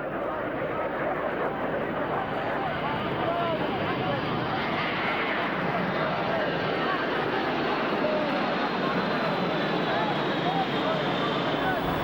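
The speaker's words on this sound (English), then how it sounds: "The 1985 Paris Air Show revealed an even bigger monster of an aeroplane." Steady, loud drone of a Russian AN-124 heavy transport aeroplane at the 1985 Paris Air Show, a continuous broadband engine roar holding evenly throughout with no talk over it.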